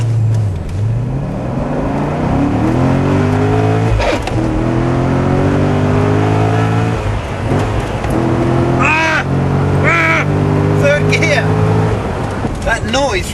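A sports car engine revs hard, its pitch climbing steadily and then dropping at each gear shift, loud and close, with a voice breaking in briefly.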